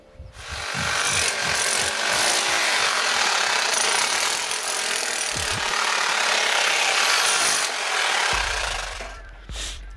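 A power drill grinds out old mortar joints, a loud continuous abrasive whir with brief breaks and scraping shifts as the bit rakes along the joint, then a short pause and a fresh burst near the end.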